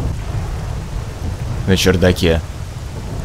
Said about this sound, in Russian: Да уж, я пока вспоминал, где это место, уже дождь пошел.